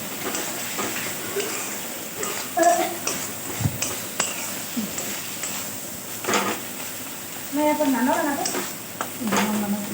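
Ghugni of paneer and chickpea masala frying in a pan with ginger and garlic, soft steady sizzle under occasional spoon scrapes and stirring knocks, close, with a voice talking over it.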